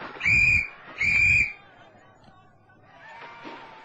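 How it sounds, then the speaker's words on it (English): Two sharp, shrill blasts from a British lieutenant's whistle during a skirmish with enemy soldiers, each about half a second long and close by, followed by faint background noise. "He blew his whistle again."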